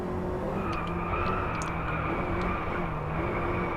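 Engine drone and tyre noise from a car drifting in the DRIVECLUB racing game on PS4, a steady loud hum with faint squeals running throughout, no talking.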